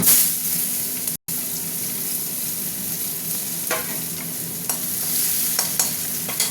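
Onions frying in hot oil with dried red chillies and a little sugar, a steady close sizzle broken by occasional spatula scrapes and clicks, with a brief dropout near the start and no speech.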